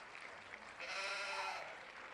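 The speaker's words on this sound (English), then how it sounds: "What did the sheep say?" A played sheep bleat sound effect, a faint, wavering bleat rising over a hissy background during a live stream.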